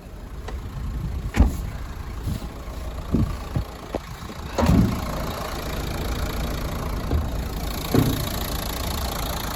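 A 2013 Renault Megane with a 1.5 dCi diesel engine idles at close range, a steady low rumble with occasional clattering knocks, heard alone.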